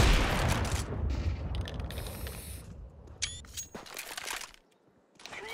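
Counter-Strike 2 grenades go off: a loud noisy blast that decays over a couple of seconds, followed by sharp metallic pings, clinks and short bursts before a brief hush.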